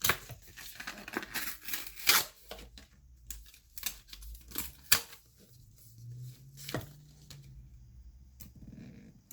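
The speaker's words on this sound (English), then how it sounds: "Yeah, I'm just gonna have to rip it open." Cardboard packaging for a 14-inch 2021 MacBook Pro is torn and ripped open by hand, with a series of close, uneven tearing and crinkling bursts and some rustling in quieter gaps, and no talking.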